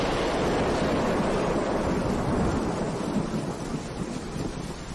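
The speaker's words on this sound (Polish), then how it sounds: "O, ładny piorun." Thunder rolling through the DayZ survival game world, a loud, sustained low rumble with a broad noisy wash like rain and wind, slowly easing off over five seconds without talk.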